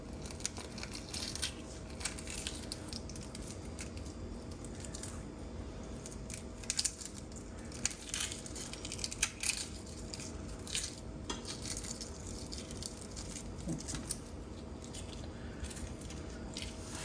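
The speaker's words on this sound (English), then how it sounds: "we're gonna get our eggs peeled" Boiled eggs are peeled by hand for potato salad, giving soft, steady squishing and crackling of shell with scattered small clicks against a dish, continuous and close with no talking.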